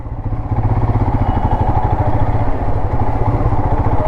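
A Himalayan 411 motorcycle engine idles and runs in a close, steady low thumping rhythm at moderate volume while the rider looks for bike parking near the Taj hotel in Mumbai, with no talk over it.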